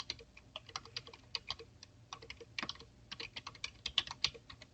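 Quick, uneven clicks of someone typing an email address on a computer keyboard, close up and fairly quiet, with short pauses between bursts of keystrokes.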